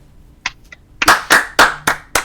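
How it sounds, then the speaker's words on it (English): A handful of people clap during a fantasy football draft broadcast, with a few scattered claps first and then five loud, evenly spaced hand claps close to the microphone. "Clap it up for the kid"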